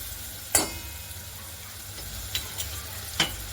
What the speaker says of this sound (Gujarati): આ રીતે આપણે વઘારને થોડીક વાર ચડવા દઈશું.